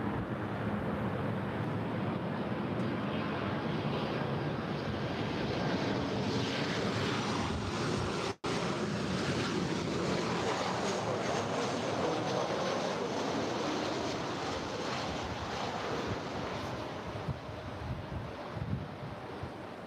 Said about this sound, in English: Wind is really picking up here.